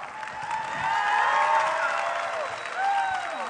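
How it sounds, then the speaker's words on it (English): Audience applause for an artwork at a comic convention panel in Arizona: a short burst of clapping mixed with excited voices and crowd murmur, swelling and then holding steady. "Round of applause for the excellent artwork."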